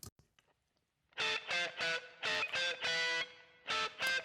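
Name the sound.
opposite side reverb on mono source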